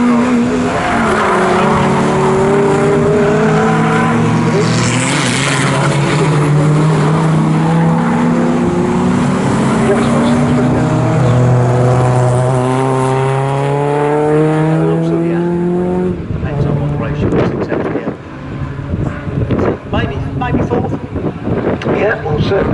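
Classic VW Cup race cars at Snetterton circuit roar past loudly on the start-finish straight, engine notes sweeping up and down in pitch as a pack streams by for about sixteen seconds, then fading to scattered nearby engine and crowd noise, with commentary over the top.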